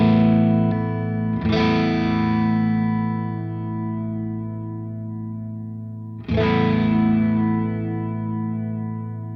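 Two ringing electric guitar chords through a Walrus Julianna stereo chorus/vibrato pedal sustain and slowly fade, their tone shimmering with a wobbling chorus-like modulation, loud and close with no talking.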